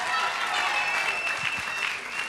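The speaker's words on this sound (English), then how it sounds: "Please give a round of applause." Crowd applause fills a college signing day event, a broad continuous clapping wash from the audience, moderately loud, with voices and cheering mixed in underneath.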